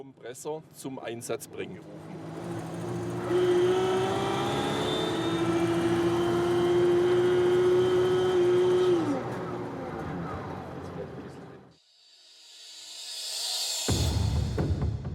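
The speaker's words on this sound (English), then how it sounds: "if you press against this resistance, the compressor is activated" A Mercedes 770K with its supercharger compressor engaged gives a rising whine over a sustained engine roar that builds, holds, then fades, with someone speaking before and after.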